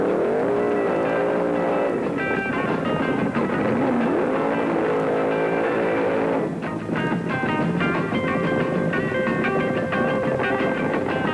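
1973 drag racing cars roaring at the strip during the IHRA Northern Nationals, a loud sustained engine howl with rising and falling pitch, then a shift to a steadier droning blare, heard from a distance over constant crowd and track noise.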